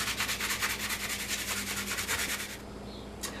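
Half an onion is rubbed down a box grater over ground meat in quick, rhythmic rasping strokes, close and steady, before stopping abruptly near the end.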